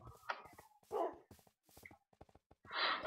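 Dogs in a hardcore survival video game barking in short, sharp bursts with whimpering yips between them, several separate barks over a few seconds, fairly quiet overall.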